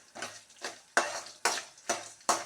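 Red chilies, peppercorns and green chilies dry roast in a pan, stirred in regular rattling strokes, each a scraping rustle with a sharp onset, about six in two and a half seconds, close and clear.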